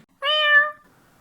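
A single short, clear meow from a nearby cat, alone against near silence.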